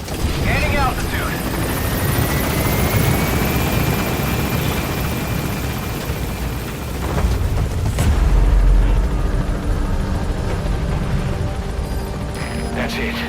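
Pequod, a helicopter in Metal Gear Solid V: The Phantom Pain, lifts off and gains altitude with a loud, close rotor roar and turbine whine, swelling briefly around a deep rumble before steadying; a radio voice talks over it.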